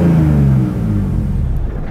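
A race car engine holds a loud, steady rev above 3,000 RPM. Its droning pitch dips slightly and then stays level, close and alone.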